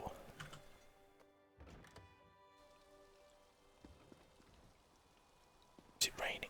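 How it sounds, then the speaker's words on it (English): Rain falling in Elder Scrolls Online: Morrowind, a soft steady patter on surfaces running throughout at low level, with brief whispered speech and a few louder taps near the start and end. "Is it raining? It's raining."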